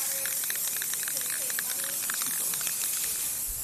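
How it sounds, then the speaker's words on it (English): Faint hissing bursts of a spray can applying plastic paint primer to a plastic rain barrel, short sprays repeating in a quick irregular rhythm under a steady hiss. "A spray can is usually the best way to do that."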